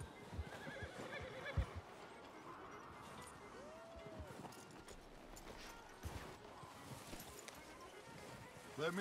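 A hitched horse in Red Dead Redemption 2 gives a short neigh amid hoof shuffles and light ambient noise, with voices talking nearby.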